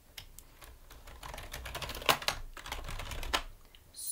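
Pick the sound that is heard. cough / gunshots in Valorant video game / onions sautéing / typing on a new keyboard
typing on a new keyboard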